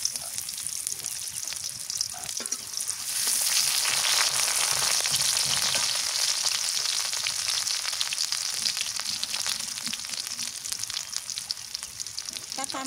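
Onions hit hot oil in a pan for a goat meat curry with raw banana, and a dense, bright sizzle swells up and keeps crackling steadily close by.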